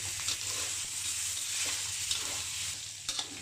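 Pork belly sizzles steadily in hot oil in a wok as it is stir-fried, a continuous close frying hiss broken by a few soft scrapes of the spatula, with no talking.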